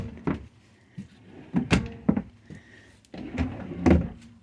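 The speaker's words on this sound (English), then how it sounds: "As you see, nice deep drawers. Full extension again." Deep, full-extension dresser drawers in a 2022 Cardinal RV sliding open and shut: a series of close wooden rumbles and knocks, with several firm thuds spaced across the stretch and no talking.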